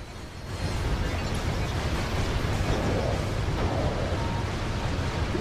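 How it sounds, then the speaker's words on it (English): Explosions in the Ratchet video game, a dense, continuous roaring blast that swells in quickly and stays loud and steady with no talking. "I think explosions are pretty."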